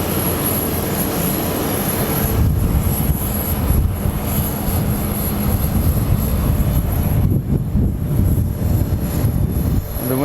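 Steady, loud engine roar from a Boeing 787-9 jet engine with its fan turning, heard close up as a broadband rush with a constant high whine, continuous for the whole stretch with no talking.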